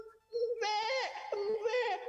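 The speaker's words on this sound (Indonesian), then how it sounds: "Si kambing pun langsung berteriak ketakutan" A frightened goat bleats as a sound effect in a children's radio story, a loud wavering cry close up that rises and breaks into a second quavering call, with no other sound around it.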